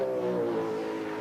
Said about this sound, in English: Just listen to Grice giving it some stick, the big Ford across the top of the mountain.